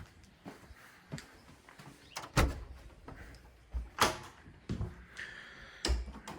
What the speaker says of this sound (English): we'll go in through the front door